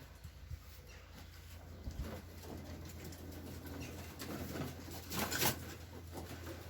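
Pigeons coo softly in a loft, faint low calls under light rustling and wing flutters, with a soft steady background hiss and no talking.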